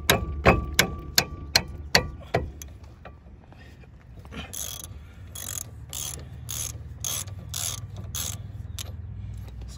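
A ratcheting wrench loosens the front brake bolts on a 2007 Jeep Liberty Sport, starting with a quick series of sharp, close ratchet clicks, then a pause, then a steadier run of metallic clicks over low mechanical noise.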